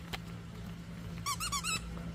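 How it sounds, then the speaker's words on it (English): A rubber dog toy squeaked in a quick burst of four close, high squeals after a single earlier chirp, heard against a low steady hum. "they do love a toy that they can't get the squeaky out"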